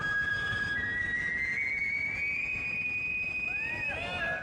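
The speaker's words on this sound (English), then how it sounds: "Whistling requires firm, not mushy lips." A person whistling a performance: a clear, sustained high whistled tone that bends and slides in pitch, with quick swooping notes near the end, over a murmur of background noise.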